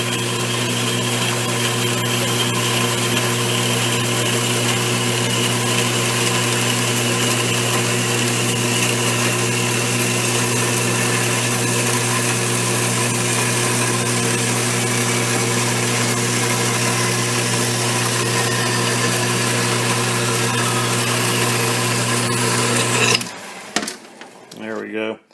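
A 4x6 metal-cutting bandsaw hums steadily as it cuts through a metal workpiece in a home machine shop, holding an even mechanical drone before stopping abruptly near the end.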